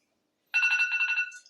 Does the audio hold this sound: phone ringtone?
yes